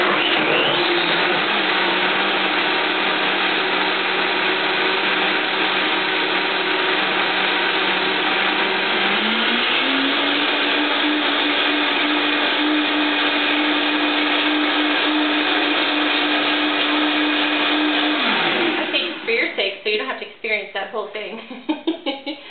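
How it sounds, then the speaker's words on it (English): A Vitamix blender runs on its hot soup setting, blending tomato soup with a steady, loud motor whine that rises in pitch partway through and holds before cutting off near the end. "So the Vitamix will mix it up"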